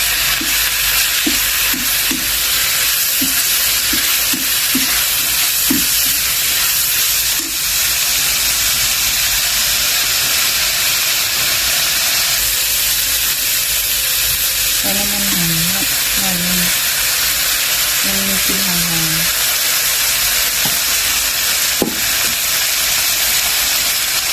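Fried holy basil and shallots sizzle loudly and continuously in a pan, a dense hiss with scattered clicks and brief tonal sounds partway through.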